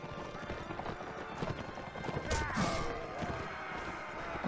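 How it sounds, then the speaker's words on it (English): Many horses gallop in a Mount and Blade Warband battle, with dense overlapping hoofbeats, a whinny or two, and clashing combat noise throughout, loud and close with no talk. "So many horses."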